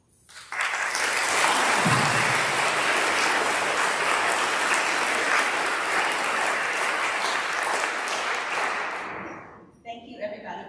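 Sustained applause from an audience after student speeches, dense and steady for about nine seconds before fading, with a few people talking faintly as it ends.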